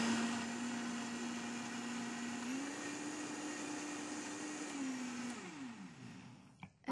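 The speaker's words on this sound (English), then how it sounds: "All right, so I'm going to blend." Steady high motor whine of a kitchen blender mixing salad dressing, running close and even for several seconds, shifting pitch slightly midway, then winding down before a brief clatter at the end.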